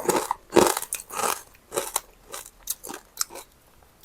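Crispy pork rind, eaten with spicy papaya salad, is bitten and chewed up close: a series of sharp, loud crunches followed by softer irregular crackling chews.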